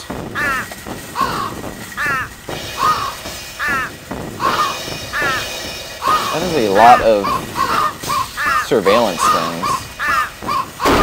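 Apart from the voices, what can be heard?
birds cawing in a video game (Thirty Flights of Loving)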